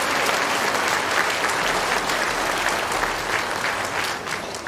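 Steady, dense clapping from an audience at an elementary school awards ceremony for first to third graders at a Baptist academy. It is loud and even for the whole stretch, tapering slightly at the end.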